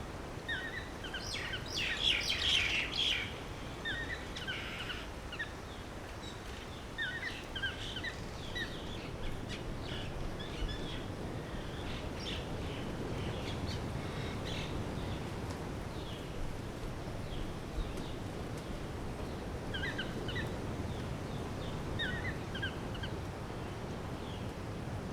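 A seabird colony on Aride island in the Seychelles calls as scattered chirps and cries, some bunched and fairly close, over a constant rustling wash of wind and surf throughout.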